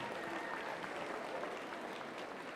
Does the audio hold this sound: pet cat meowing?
no